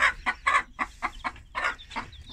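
Chickens cluck in a steady series of short, close bursts, several hens calling over one another with no talk.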